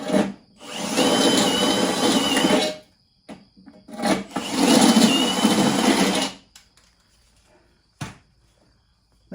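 Power drill enlarging bolt holes in a bumper-mounted RV grill bracket, two loud sustained bursts of whirring and grinding separated by a short pause, then scattered clicks and clunks.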